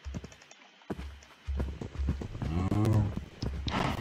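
Cows mooing in the video game Minecraft, with low bovine calls and a clearer drawn-out moo near the middle, among scattered game sounds and footstep-like taps.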